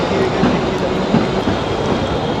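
Mahalaxmi Express on the Mumbai to Kolhapur overnight run, a steady loud rumble of rolling carriages with faint rhythmic wheel clatter, heard from inside the train.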